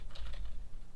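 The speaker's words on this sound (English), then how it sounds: "I'm typing in the session name here" Computer keyboard keys being typed on at a recording workstation, a quick run of close, light clicks and taps in an irregular rhythm with no voices.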